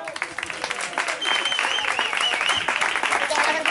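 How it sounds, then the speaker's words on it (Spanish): A small crowd at a community gathering applauds the winning pair of a guiñote card tournament; steady, close clapping throughout, with voices calling out over it. "Unos aplausos."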